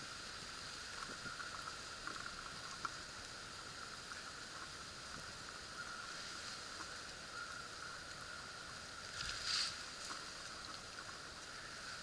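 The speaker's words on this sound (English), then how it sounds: "See, we got some wind going on here." Steady wind rushes across a primitive campsite in a constant broadband roar, with a brief gust or lighter flick near the end and no talking.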